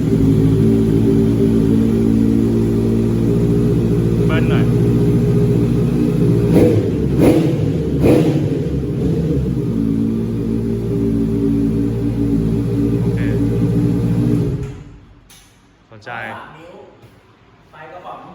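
A 2017 Honda CB650F motorcycle fitted with carbon parts runs loudly at close range, its engine held at a steady rev for about fifteen seconds before the sound suddenly cuts off.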